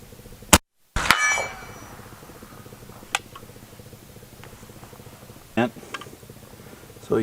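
A Gemmer rolling block rifle fires a sharp, loud shot, and a moment later the steel gong at 100 yards answers with a bright, ringing clang that slowly fades; a few faint clicks follow.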